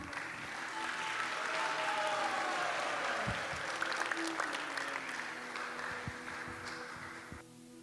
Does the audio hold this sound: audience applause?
yes